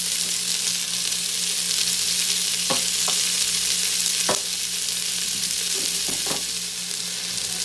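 Vegetables sauté for a lamb stew, seasoned with pepper and kosher salt, giving a steady close sizzle broken by a few sharp clinks and scrapes of stirring.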